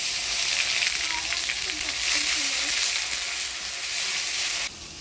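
Dried chillies, bay leaf, whole cumin and chopped tomato sizzle loudly in hot oil for a pangas fish curry, with a bright continuous crackle close up that cuts off sharply near the end.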